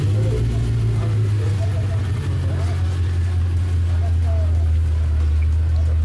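A Mercedes C63 AMG engine runs steadily as a deep, loud low rumble that holds level throughout, with faint talk in the background.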